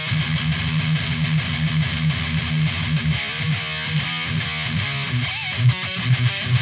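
Electric guitar played through a Boss Mega Distortion pedal stacked with a Rat pedal, giving a thick, saturated, sustained distorted tone with steady chords and a few sharper picked accents near the end.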